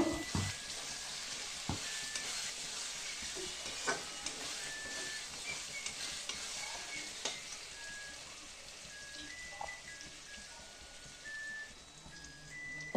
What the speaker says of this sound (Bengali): টমেটোটাও পেঁয়াজের সাথে ভালো করে ভেজে নেব